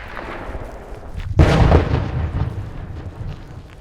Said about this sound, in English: The sound of small arms fire we can still hear